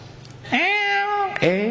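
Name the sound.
cat meowing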